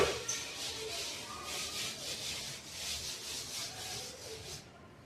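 Steady rubbing of an eraser or duster across a board during a maths lesson, a soft continuous scraping with faint back-and-forth pulses, fairly quiet and close, ending abruptly.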